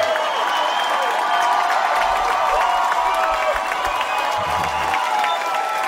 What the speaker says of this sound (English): Round of applause for Rudy, everybody!